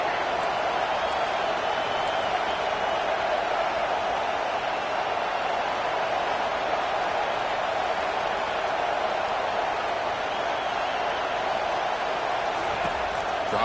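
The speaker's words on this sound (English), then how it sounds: "It's early, but this crowd is fired up. Listen to this noise here." Stadium crowd noise in a college football video game, a steady dense roar of cheering fans holding at constant loudness throughout, with no distinct talk.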